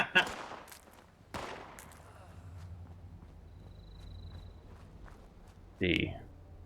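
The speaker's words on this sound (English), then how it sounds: "I hear gunshots." Distant gunfire in the post-apocalyptic game Fallout 76, a few sharp cracks over a low outdoor rumble, followed by footsteps and a brief louder burst near the end.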